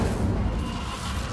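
A fire spell cast in Hogwarts Legacy on PS5 during a haunted Hogsmeade shop quest, giving a steady, loud rumbling roar that holds evenly through its brief span.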